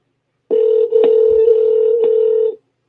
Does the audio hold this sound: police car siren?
no